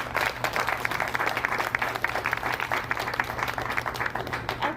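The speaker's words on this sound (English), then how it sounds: "I'd like everyone to please give a round of applause to everybody in the Jefferson County Health Department." Steady audience applause for the Jefferson County Health Department at a commemoration event, with rapid, even clapping sustained throughout over a low background hum.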